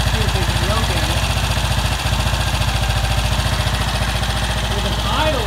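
A British motorcycle engine idles steadily with an even, rapid low thump, with faint voices talking in the background throughout.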